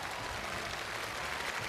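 A crowd claps on a Chinese TV challenge show stage after a bank cash-counting champion's record attempt. The applause is brief and fairly soft, a steady even patter that stays at one level throughout.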